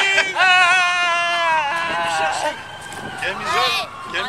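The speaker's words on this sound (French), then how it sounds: "Là, c'est l'ambulance." An ambulance siren wails near Santa Monica Pier, its rising and falling tone loud and fairly close, over steady street and crowd noise with voices mixed in.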